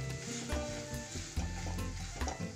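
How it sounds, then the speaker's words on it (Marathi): Cauliflower paratha stuffing, with lemon squeezed in, is stirred and sautéed in a pan, making a soft sizzle with light scraping strokes at a low level. "1 मिनिट चांगलं परतून घेऊया"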